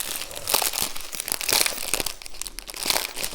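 Close, continuous crinkling and crumpling of plastic packaging as a diamond painting kit is opened, with irregular rustles and small tearing sounds throughout.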